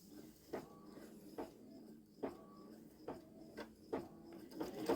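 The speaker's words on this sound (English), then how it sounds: "It's just doing a somewhat narrow satin stitch around the outside." Babylock Solaris embroidery machine sewing a narrow satin stitch on a T-shirt, a quiet steady mechanical hum with soft, regular thumps of the needle.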